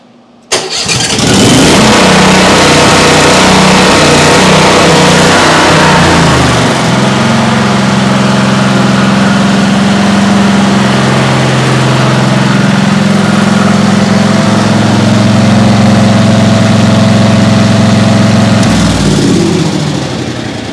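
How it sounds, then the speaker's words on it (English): A Briggs & Stratton Elite 10000 portable generator cranks and fires up, then its engine runs at a steady, loud idle with a constant hum and a slight shift in pitch partway through, close by with no talking. "start the generator briefly just to fill the oil passageways and also the oil filter"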